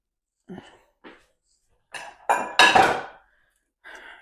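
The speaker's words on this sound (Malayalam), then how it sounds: "ഞാനൊരു പാത്രം എടുത്തു." A cooking pot lifted and handled in a home kitchen while making a spicy masala omelette: a few short metallic clanks and knocks spread over several seconds, with one louder scraping clatter near the middle.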